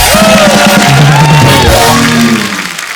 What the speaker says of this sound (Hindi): एक बार फरहान और प्रियंका के लिए जोरदार तालियां